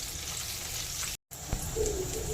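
Green-masala-coated bombil (Bombay duck) fish fry slowly in a pan over a low flame to turn crispy, giving a soft, continuous sizzling hiss with a brief break and no voices.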